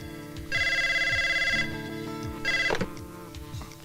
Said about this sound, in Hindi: सर जी आपका फोन है